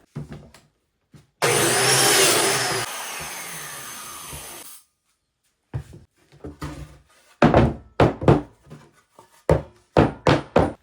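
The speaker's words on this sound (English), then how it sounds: "I just used the joiner where I had all the marks and then cleaned out all the holes" A biscuit joiner plunges into cedar boards, one loud sustained whirring cut followed by a quieter run-down, then a series of short sharp knocks and clatters as the slots are cleared.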